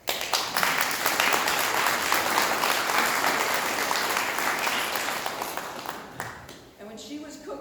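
Mourners at a memorial service break into sustained applause, a full, even wash of clapping that tapers off near the end as a voice begins to speak.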